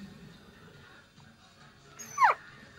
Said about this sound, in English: Everybody loves puppies.